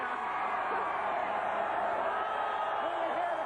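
Dense, steady roar of a large crowd celebrating the Baltimore Orioles' World Series win, with scattered whoops and shouts rising from the mass of voices at a constant loud level.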